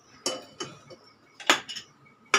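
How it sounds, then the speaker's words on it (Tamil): A cooking pot clatters and clinks as it is picked up and set down in a home kitchen while a tuber gravy is being made, with several sharp metallic knocks spread over a couple of seconds and no talk. "இப்போ இதை நம்ம ஒரு பாத்திரத்தை எடுத்துக்கலாம்"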